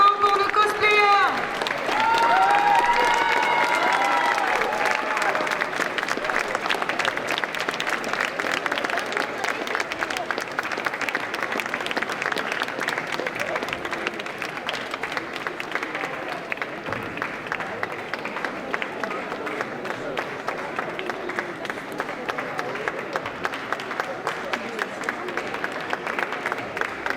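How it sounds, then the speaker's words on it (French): Sustained applause from a crowd at a cosplay contest and prize-giving at a Japan pop culture show, with scattered cheers, fading slightly into lighter clapping; a voice briefly speaks over it at the start. "Et un tonnerre d'applaudissements pour nos cosplayers."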